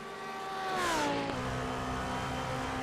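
On-board engine of an orange race car in a Le Mans endurance racing game, a steady loud drone that sweeps down in pitch as it lifts off, then holds a lower even tone.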